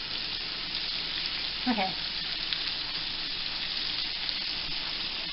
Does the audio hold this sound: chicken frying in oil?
yes